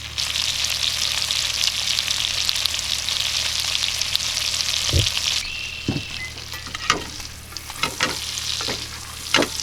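Smashed garlic cloves fry in a pan with steady, loud sizzling that carries throughout, broken by a few close knocks and scrapes of a utensil, with no one talking.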